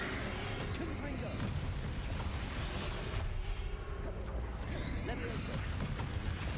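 In a Hogwarts Legacy boss fight against Ranrock, a Confringo fire spell explodes with deep, rumbling booms inside a dense, continuous wall of battle noise, with voices speaking over it.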